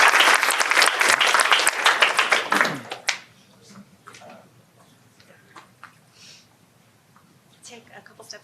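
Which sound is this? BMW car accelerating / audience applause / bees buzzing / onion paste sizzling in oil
audience applause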